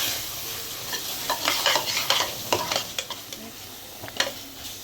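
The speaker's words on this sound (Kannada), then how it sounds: "ಚೆನ್ನಾಗಿ ಫ್ರೈ ಮಾಡ್ಕೊಳ್ಳೋಣ 2 ನಿಮಿಷ." Masala with hot chilli powder and turmeric fries in a pan for Hyderabadi mutton curry, a low steady sizzle overlaid with repeated clinking, scraping stirs of a spoon against the pan, close and quiet without speech.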